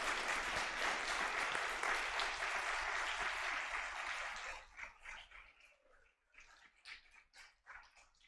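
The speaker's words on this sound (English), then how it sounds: "One more round of applause for all of our winners today." A school assembly crowd gives a dense burst of applause for an award recipient, which tapers off into a few scattered claps and distant murmuring.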